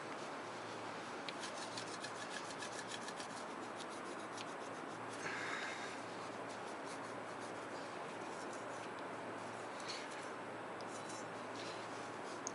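Vinegar is rubbed onto a rusty chrome MagnaFlow exhaust tip, making a continuous soft scrubbing and rasping friction sound, close and quiet, with no voices.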